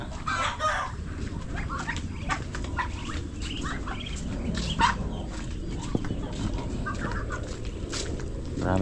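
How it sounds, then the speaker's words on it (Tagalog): Roosters clucking and crowing in a busy yard, several birds calling over one another with a steady background of farmyard noise. "Puro tandang, halos tandang lahat to."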